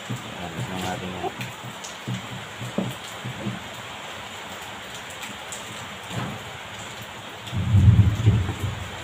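Rain falls steadily outside as a soft, continuous hiss, with scattered clicks and knocks nearby and a brief low rumble near the end.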